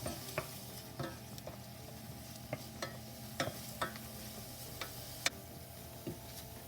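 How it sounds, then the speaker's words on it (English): Onions sweating in olive oil and butter in a pot, a soft low sizzle with scattered spoon clicks and taps against the pot, fairly quiet, with no talking. "we're going to put in the onions and just sweat them down"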